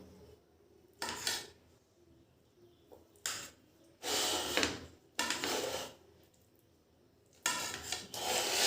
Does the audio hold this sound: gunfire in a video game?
no